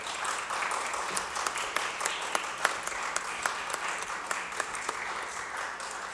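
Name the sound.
audience applause for task force members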